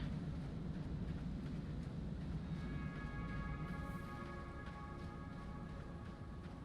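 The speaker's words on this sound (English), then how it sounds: "It's one of the longer trains, so we want to catch a ride on this." A long train in the factory-building game Satisfactory rolls past with a steady, heavy rumble and faint metallic tonal whines, close and continuous throughout.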